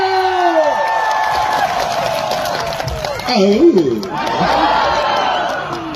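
Crowd cheering and whooping for an actor at a live Karbi Anglong Day performance in Diphu, Taralangso, with shouts rising and falling alongside amplified voices talking over the noisy outdoor audience.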